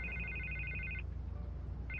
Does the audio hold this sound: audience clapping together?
no